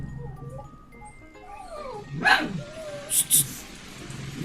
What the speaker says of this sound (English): It's a dog outside.